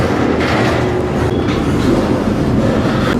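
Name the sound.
freight train rolling slowly through rail yard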